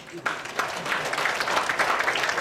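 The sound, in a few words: audience applause at a conference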